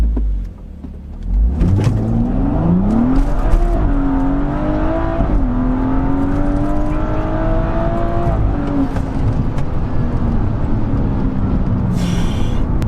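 A Stage 2 BMW M135i with the N55 engine accelerating hard on a drag run, heard from inside, loud and close, its engine note climbing steadily through a long pull and then a gear change.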